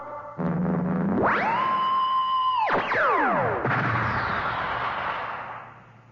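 A weapon-firing sound effect from a CBS radio mystery drama: a rising electronic whine that holds steady, then swoops down in pitch into a loud, noisy rushing blast that fades out, with no talking.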